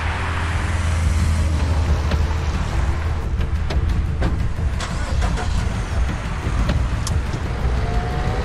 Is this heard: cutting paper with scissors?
no